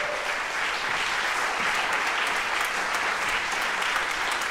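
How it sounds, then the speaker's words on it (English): Audience applause for young dancers at the close of a public rehearsal by a conservatory choreographic ensemble, a steady dense clapping that fills the whole stretch evenly, with no pauses. "Je pense qu'on peut remercier les jeunes danseurs et les applaudir."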